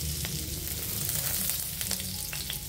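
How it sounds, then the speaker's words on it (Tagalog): Butter crackling and popping as it fries in a pan before garlic goes in, a steady close hiss with scattered sharp pops throughout, no talking. "Pumuputok siya. Ito yung butter nito."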